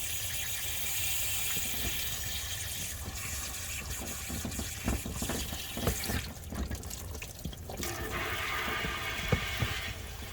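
Water flushing through a heater core hose on a GMC K1500 pickup, a steady close rushing and gurgling flow with small splashes and drips throughout.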